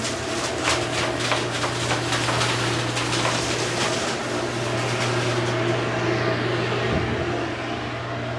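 Negative air machine running steadily with compressed air blasting through ductwork while cleaning out layers of cat hair, a loud continuous roar with a low steady hum and rapid rattling bursts that thin out near the end.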